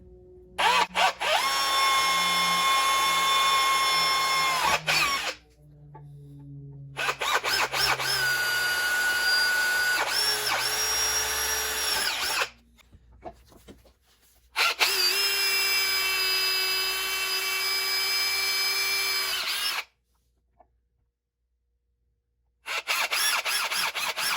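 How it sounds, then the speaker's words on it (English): A power drill whines loudly in three long bursts, pitch shifting as it bites through an aluminum cavitation plate on an outboard motor, separated by short pauses. "drill some holes through the cavitation plate"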